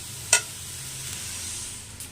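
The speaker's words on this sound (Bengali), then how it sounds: "এখানে লাউয়ের চোচা আলু আর একটু গাজর দিয়ে ভাজছি।" Bottle gourd peel, potato and carrot fry in a pan with a soft, steady sizzle, opening with one sharp clink of a utensil, heard close and fairly quiet.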